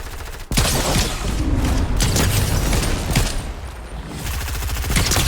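Rapid automatic gunfire rattles through a Fortnite firefight as opponents shoot back, dense bursts of shots repeating almost continuously at close range with a few heavier booms mixed in.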